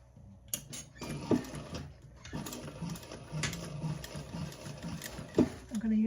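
A sewing machine stitches a gusset seam at a slow, steady pace, its rapid mechanical chatter running continuously with occasional clicks and pauses, close up and moderate in level, with a voice talking faintly over it.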